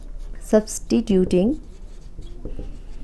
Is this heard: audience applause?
no